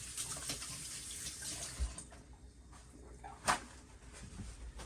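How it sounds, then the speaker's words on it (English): Hands washed under a running kitchen tap while raw meat is being prepared, a steady soft stream of water with light splashing and a brief knock partway through, quiet and without talk. "And wash my hands again."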